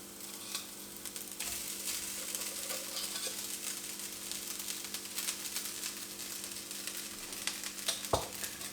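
Leftover rice for Maharashtrian phodnicha bhat is stirred and fried in a pan, producing a soft continuous sizzle with faint scraping of the spoon and a sharp clink near the end.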